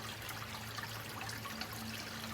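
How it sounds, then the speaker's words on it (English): Water from a pond filter flowing with the main waterfall switched off, a soft, continuous trickle and splash, faint and steady over a low background hum. "see the amount of flow that the filter's got. You can hear it now."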